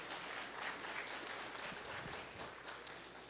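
Audience applause at a tech conference event in São Paulo: steady broadband clapping throughout, moderately distant, with no voices over it.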